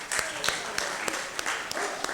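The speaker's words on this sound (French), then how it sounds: "je vous demanderai de vous lever, de faire une acclamation pour cette résolution" Members of Dakar's city council clap in rhythmic unison for the 2024 budget resolution, sharp regular claps over a murmur of voices in the chamber.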